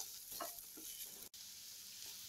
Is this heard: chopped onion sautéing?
yes